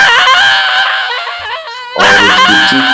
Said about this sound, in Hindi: उसकी चीख पूरे जंगल में गूंजने लगी और जंगल के सन्नाटे में कहीं गुम हो गई